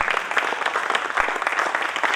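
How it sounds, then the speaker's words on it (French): Applause from a conference audience at the close of a day on territorial resilience, steady, full clapping throughout with no break. "Je crois qu'on peut l'applaudir."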